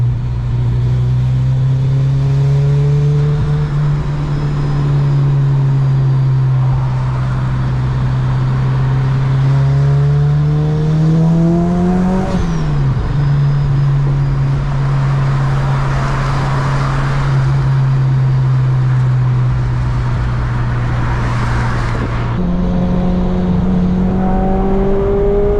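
A 350 hp supercharged Honda Civic Si heard from inside while driving, a loud steady engine drone with a supercharger whine that climbs and falls as it speeds up and shifts gear, with no talking.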